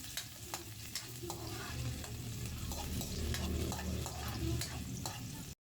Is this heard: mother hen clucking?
no